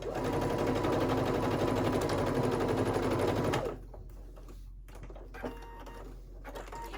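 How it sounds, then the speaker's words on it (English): A sewing machine stitches and back stitches a pocket seam on a summer halter maxi dress, a loud steady mechanical whir that stops abruptly, followed by faint handling clicks. "Back stitching."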